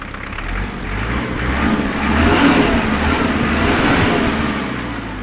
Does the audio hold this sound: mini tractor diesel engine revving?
yes